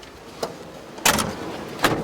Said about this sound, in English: The best to close your doors on the truck.